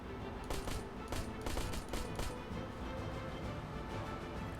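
Drive-by gunfire in the survival game Hide and Hold Out: rapid bursts of gunshots in several quick volleys over a steady low engine-like rumble, no talk.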